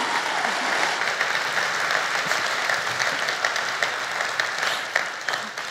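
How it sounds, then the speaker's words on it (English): An audience gives a warm, dense round of applause, steady and fairly loud throughout, thinning slightly near the end. "Everybody give a warm round of applause for Tracy Kelly"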